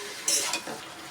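A spatula scrapes through potato and pointed gourd curry in a pan over a soft sizzle, giving two quick close stirring scrapes in about a second.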